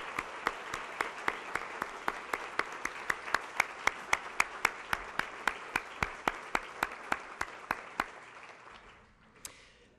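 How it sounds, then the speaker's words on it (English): Steady rhythmic applause from an audience at a healthcare awards ceremony honoring finalists, the claps evenly spaced and moderately loud for about eight seconds before fading out, with no talk. "Please join me in giving all these finalists a rousing, rowdy cheer of appreciation."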